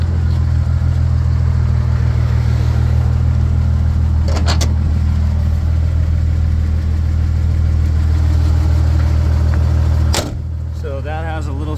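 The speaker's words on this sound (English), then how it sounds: "right now I think the choke is on, that's why the idle's high." A 1965 Chevy C10 pickup engine idles fast with the choke on, a steady, loud low rumble that runs unbroken throughout, with a brief voice near the end.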